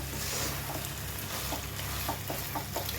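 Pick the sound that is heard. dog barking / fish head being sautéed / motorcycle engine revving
fish head being sautéed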